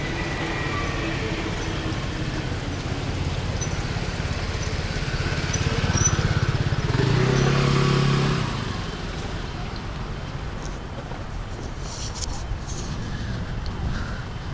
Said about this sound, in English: there's somebody coming down here on their motorcycle